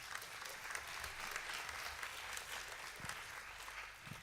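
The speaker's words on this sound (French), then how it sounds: "Vous pouvez encore l'applaudir." At a contest finale, the crowd keeps applauding the female winner with a steady, full round of clapping from many hands, moderately loud and even throughout, with no voices rising above it.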